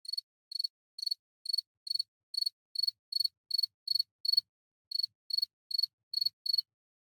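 A cricket chirps steadily in short, evenly spaced bursts of high trilling pulses, clear and alone against silence, with one brief pause before the rhythm resumes.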